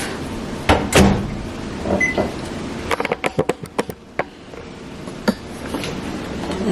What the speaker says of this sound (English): So let's put it in the microwave.